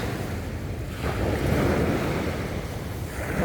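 Ocean surf washes steadily onto a beach, a continuous rushing roar that swells slightly midway, with wind buffeting the microphone.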